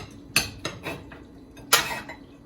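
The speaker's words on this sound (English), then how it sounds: "I'll turn the plate upside down." Dishware knocks and clinks as a plate is turned upside down over a bowl of Trinidad cou cou, a few sharp ceramic taps with one louder clack, close and quiet with no talking.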